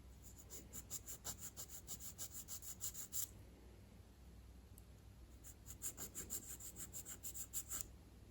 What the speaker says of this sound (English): So you can come in with your photo etch file.